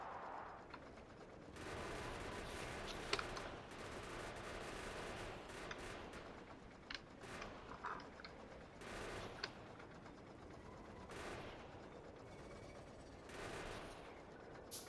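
Gunfire aimed at biters in Factorio, heard as sustained rapid bursts of shooting with brief pauses and scattered sharper pops, fairly quiet overall, with no talk.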